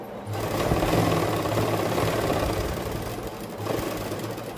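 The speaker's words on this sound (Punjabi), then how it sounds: "ਇੱਥੋਂ ਵੀ ਆਪਾਂ ਖਾਲੀ ਮਸ਼ੀਨ ਚਲਾਉਣੀ ਹੈ ਇਸ ਤਰੀਕੇ ਨਾਲ" Sewing machine running steadily while stitching pleats into cloth, a close, continuous rapid mechanical whir with a brief dip and restart near the end, no talking.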